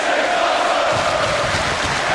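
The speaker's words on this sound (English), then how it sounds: "the crowd are elated" Crowd noise from a stop-motion wrestling show, a steady roar of elated spectators cheering throughout, dense and fairly loud with no pauses.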